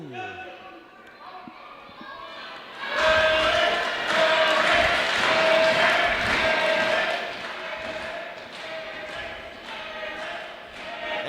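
Wrestling crowd roaring in support of Hip Hop Harry, a sustained loud arena swell that rises sharply after a quieter start and stays dense with shouts and cheers, easing slightly toward the end.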